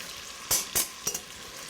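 Chestnut soup with ginger and butter stirred in a pot: a few quick scraping strokes over a faint steady sizzle, close and fairly quiet, with no talking.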